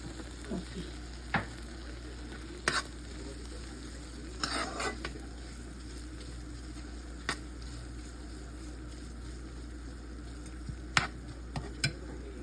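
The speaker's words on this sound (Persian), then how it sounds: "یک خورده خیلی کم سرخ میکنیم" A soft, steady sizzle of food frying lightly in a pan with a little sugar continues throughout, with occasional clinks and scrapes of a utensil against the pan.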